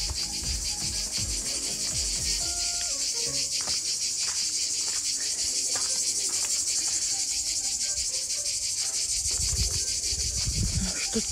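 Cicadas chirp at the ruins of the old town of Stari Bar in Montenegro, a loud, dense, continuous pulsing drone filling the whole clip, with low rustling and handling noise underneath.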